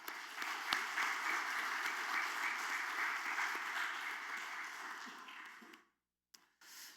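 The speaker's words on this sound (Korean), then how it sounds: "우리 할렐루야 찬양대 또 주일 경배 찬양팀 축복하고 격려하는 박수 하도록 합니다" A church congregation claps for the choir and worship team at a Sunday service, a steady wash of moderate applause that stops abruptly near the end, followed by a brief silence and faint sounds.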